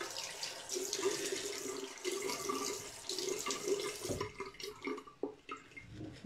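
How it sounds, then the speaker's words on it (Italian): A little water runs from a tap into a dish of soap that has gone too dry: a quiet, steady splashing stream, followed by a few light drips and small knocks. "Aggiungiamo un po' d'acqua perché sennò è troppo secco."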